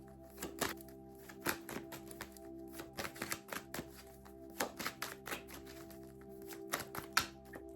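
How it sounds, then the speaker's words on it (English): Tarot cards are shuffled by hand, giving a quiet, irregular run of soft taps and riffling slaps over a faint steady hum. "Okay, I'm gonna do one more shuffle."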